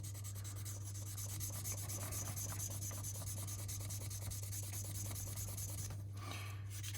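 Close, steady rubbing of a sanding pad over wood in quick back-and-forth strokes, over a constant low electrical hum.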